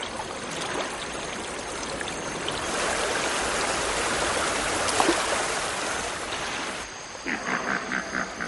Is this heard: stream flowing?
yes